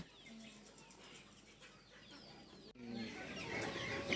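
Chickens at a traditional market, near clucks and squawks with some wing flapping and a busy crowd murmur that grows louder partway through.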